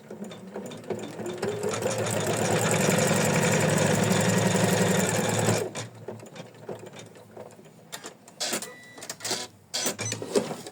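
An embroidery machine stitches felt onto an in-the-hoop tulip heart design with a dense, buzzing, rapid mechanical whir for about five seconds, then stops and leaves short irregular clicks and motor bursts.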